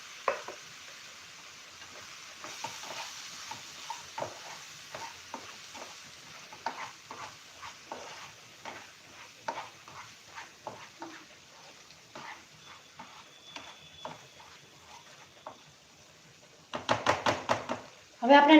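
Ground cashews stirred into a capsicum curry in a pan, with soft scraping and light sizzling strokes repeating at a steady pace, faint and close, ending in a few louder clattering knocks.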